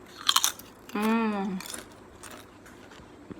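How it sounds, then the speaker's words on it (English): A few sharp crunchy bites into crisp fried papadums, followed by a short voice and then quieter chewing. "nice crispy papadums. So crunchy."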